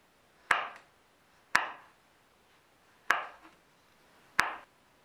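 A knife cuts through a small red chili on a board with four crisp, separate chops spaced a second or more apart, close and alone in a quiet room.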